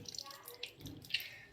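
Water wrung by hand from washed, crushed bitter gourd drips and trickles in a few faint, brief spatters, quiet and close.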